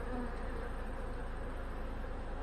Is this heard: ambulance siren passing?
no